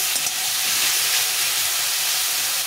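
Beetroot fries in a hot pan for a mashed beet dish, giving a steady, close, loud sizzling hiss that runs unbroken throughout.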